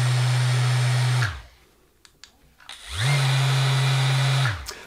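A Mirka electric sander switches on, whirs steadily at a loud constant pitch, spins down into quiet with a few small knocks, then starts up again and runs before cutting off.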